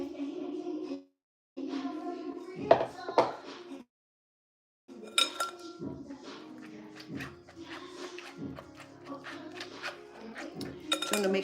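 Cream cheese being mixed in a bowl with a utensil instead of a whisk for a cheesecake, with close clinks and scrapes against the bowl in irregular bursts and short pauses between.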